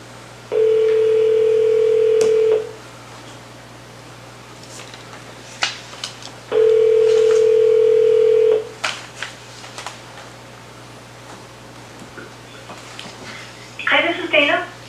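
A steady telephone tone sounds twice in two-second stretches during a call redial at a city council meeting, with a low constant hum beneath, scattered clicks and a brief burst of noise at the end.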